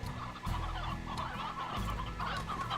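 Chickens in the video game Slime Rancher cluck in short bursts, a few repeated calls over a low background hum, fairly quiet and without speech.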